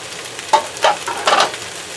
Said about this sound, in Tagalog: So, yan na yung ating napritong beef.